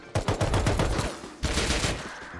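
Tommy gun firing in a video game: a rapid, loud burst of automatic shots, a short pause, then a second sustained burst that rattles on.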